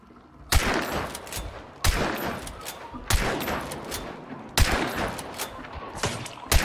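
Repeated bursts of rapid gunfire, loud and close, in several sharp volleys with brief gaps between them, in the video game Hunt: Showdown.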